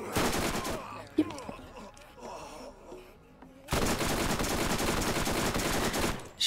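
Gunfire in Borderlands, the video game: a short loud burst, a quieter stretch with a few scattered shots and sounds, then a sustained heavy volley of rapid automatic fire that runs to the end.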